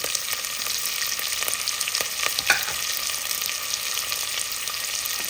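Large-cut onions frying in a hot pan for pappucharu, a continuous close sizzle with occasional stirring scrapes and one sharper clink midway, no talking.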